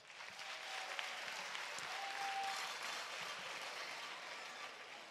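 Sustained applause from an audience filling a hall at the international final of the MT180 science talk contest, a steady, dense clapping that stays even and loud throughout with no voices over it.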